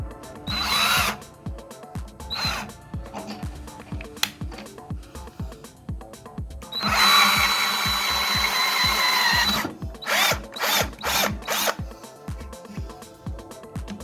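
A BLACK+DECKER EPC12K2 12-volt cordless drill bores into wood, running in several loud bursts of whining motor sound, the longest lasting a few seconds, broken by pauses with lower rhythmic knocking and clatter.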